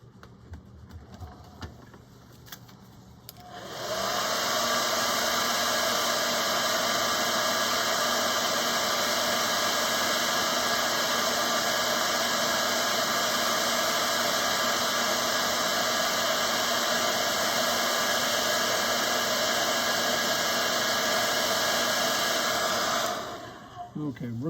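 A hair dryer blows on a wet paint brush, switching on after a few seconds into a loud, steady whir with a constant pitch that runs for about twenty seconds before cutting off.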